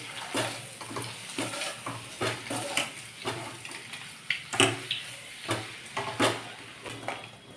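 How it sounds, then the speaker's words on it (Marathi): Masala with Kashmiri chilli powder and salt being stirred around eggs in a pan for egg biryani, a steady series of soft scraping and clinking strokes roughly twice a second, close up with no talk. "आता आपण हे छान हलवून घेऊया जेणेकरून सगळा मसाला असा व्यवस्थित लागेल"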